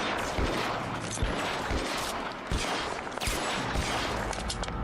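Gunfire in the video game LA Noire, a dense, continuous exchange of shots with sharp cracks layered over a noisy, reverberant backdrop, loud and close for the whole stretch, with no voices.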